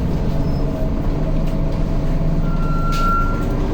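A large vehicle idles loudly close by during Easter in Corfu, with a steady engine rumble, a hiss of air brakes and a high warning beep near the end, with no talk.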